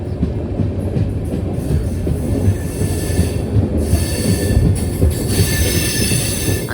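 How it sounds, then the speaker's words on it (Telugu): Sabari Express passenger train running from Trivandrum to Secunderabad near Pakala: a loud, steady rumble of wheels on rail with continuous clatter and metallic track noise throughout, close and unbroken, with no talking. "అసలు ఆ ట్రాక్ సౌండ్ చూడండి ఎంత బాగుందో"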